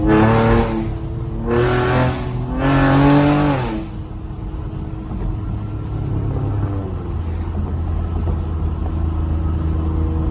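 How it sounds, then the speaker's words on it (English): A loud Camaro V6 revs through three quick blips while downshifting on a late-night city drive, then settles into a steady low engine drone as the car cruises on. "The downshift."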